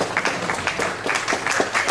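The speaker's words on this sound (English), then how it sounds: "Ladies and gentlemen, please another big hand of applause for our chapter president." Short burst of audience applause at an association convention, irregular clapping from a modest crowd with uneven hand strikes throughout.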